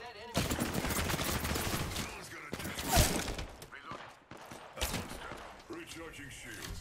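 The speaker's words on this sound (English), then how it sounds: "Opening fire on the enemy." Dense, rapid gunfire from a video game fills the whole stretch, with overlapping bursts, sharp cracks and a louder volley near the middle, amid busy in-game noise.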